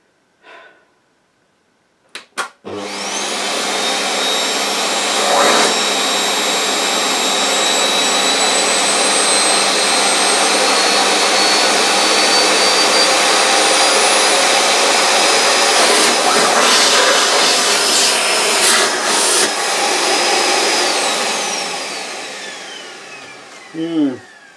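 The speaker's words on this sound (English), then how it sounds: "It's a noisy little thing, isn't it? Quite noisy." An LG V-2620DE cylinder vacuum cleaner set to minimum power runs on a rug with a loud, steady roaring whoosh for about twenty seconds, close by, after a few clicks at switch-on, then spins down at the end.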